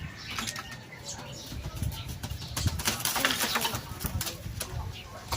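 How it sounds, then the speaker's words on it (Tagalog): Hotel pigeons coo softly over continuous wing flutter and ambient noise, with people talking in the background throughout. "Yung mga kalapati ng hotel ko"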